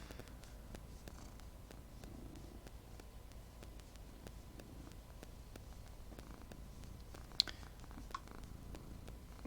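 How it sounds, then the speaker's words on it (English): Close, soft cat purring in a steady rhythmic rumble, quiet and continuous with a couple of brief small bumps near the end. "I'm just going to be quiet just so that you can get a full earful of this purring."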